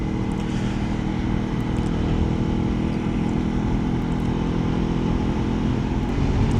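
A 2017 Suzuki GSX250R motorcycle riding on a cold road, its engine a steady, loud, continuous drone mixed with heavy wind rush, with no pauses or talking.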